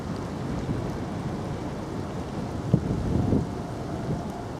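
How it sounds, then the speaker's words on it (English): Steady rain falling outdoors on a country walk between Riddlesdown and Coulsdon South in late November, a constant hiss with wind buffeting the microphone and a brief bump partway through, no voices. "Still raining."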